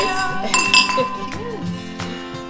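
Wine glasses clink together in a toast, a couple of bright ringing chimes close by with a lingering tonal ring and light background sound.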